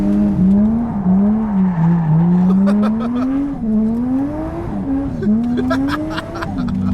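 A 450-horsepower Toyota Chaser with a 1JZ engine being driven hard, the engine note climbing and dropping through gear changes, loud and close, with a few sharp pops near the end.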